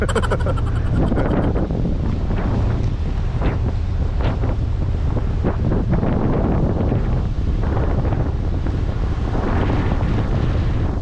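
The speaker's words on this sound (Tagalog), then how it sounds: "Medyo malakas ang hangin." Strong wind buffets the microphone in a constant loud roar, with waves and a boat's Honda GX390 engine churning underneath.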